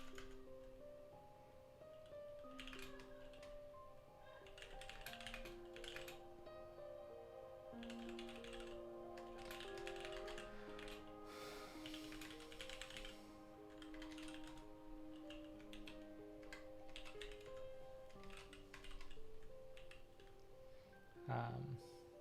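Rapid, continuous clicking of a computer keyboard as code is written, quiet and close, with brief pauses between bursts of keystrokes.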